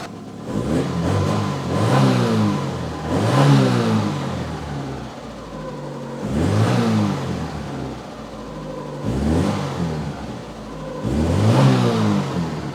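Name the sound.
car engine revving with induction noise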